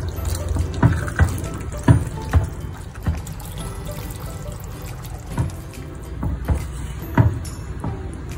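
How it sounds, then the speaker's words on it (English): Water poured into a pot of pasta simmering in tomato puree, a few splashy pours with soft bubbling and stirring between, close and moderately loud. "I'm going to add little bit water."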